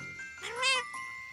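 Cartoon kittens meowing, a single drawn-out, rising and falling mew that swells in the middle, heard close and clear over a soft background.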